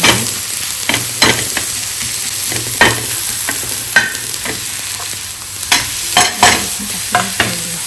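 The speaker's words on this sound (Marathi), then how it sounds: "त्यात मी हळद आणि मसाला टाकून चांगलं सारं मिक्स करून घेतलं आहे." A mixture with turmeric and masala is stirred in a hot pan, scraping strokes repeating every second or so over a steady close sizzle, with no voices.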